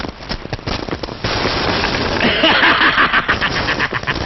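In a 1977 Hindi film, a rapid burst of sharp gunshot cracks in quick succession, followed by a steadier crackling rush, loud and close.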